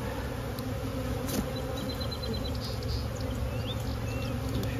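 Steady, dense buzzing of many honeybees around an open hive fills the air continuously, close by and fairly loud, with no voices.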